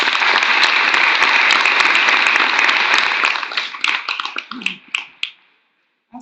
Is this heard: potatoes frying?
no